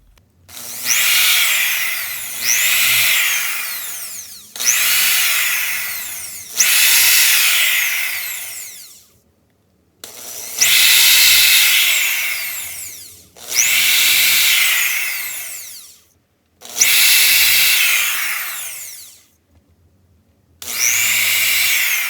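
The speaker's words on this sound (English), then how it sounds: "Now what I can do is drill the holes to mount the pickups." A power drill bores mounting holes for pickups in a guitar body, running in about eight separate bursts of a few seconds each with short pauses between, loud and close, with no talk.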